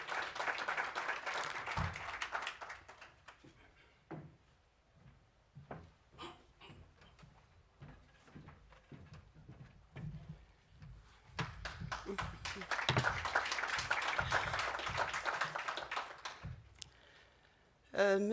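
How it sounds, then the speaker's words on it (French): An audience at a conference forum opening applauds, with clapping bursts at the start and again around the middle before a voice takes over, set amid quieter clicks and shuffling of the room. "Je vous invite effectivement à applaudir."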